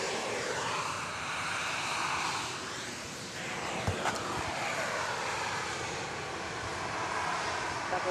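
A Boeing 737-700 jet at Dallas Love Field, a broad sustained engine roar that swells and eases over several seconds, fairly distant and steady, with a brief metallic click partway through.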